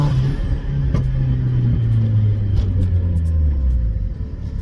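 A turbocharged Mazda MX-5 Miata engine rumbles loudly and close by, its pitch gradually falling as the revs ease off, with a few sharp clicks over it.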